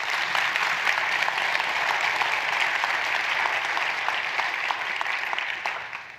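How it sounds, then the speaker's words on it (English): Sustained audience applause at an education awards celebration honoring a food service professional of the year, an even, dense roar of clapping throughout that tapers off at the end. "a round of applause?"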